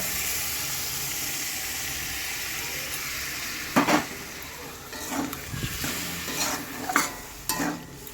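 Red lentils stir-fried in a pan with spices and vegetables: a steady sizzle and hiss under intermittent scraping strokes of a spoon, close and moderately loud.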